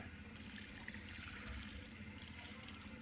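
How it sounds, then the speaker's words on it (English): Continuous rushing splash of water pouring steadily into a cement mix, fairly faint and unbroken, with no voices. "And then fill it up with more water."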